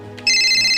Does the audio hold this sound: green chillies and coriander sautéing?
no